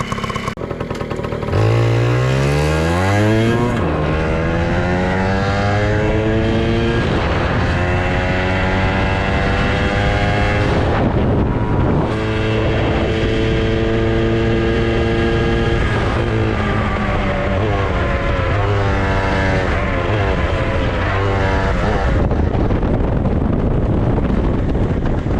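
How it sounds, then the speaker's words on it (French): A small, high-revving 80cc Yamaha PW80 or Jianshe 80 motorcycle engine screams close by at full throttle, its pitch climbing through several gear changes with brief drops between. "on va faire une accélération à fond"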